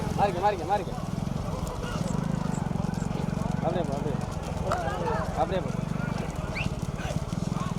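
Bullocks race with their carts in a bullock cart race, the hooves clattering in a rapid, continuous rhythm under a loud commentator talking over them.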